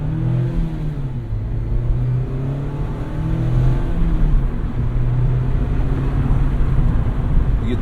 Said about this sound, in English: You get to hear the engine noises, the induction noises.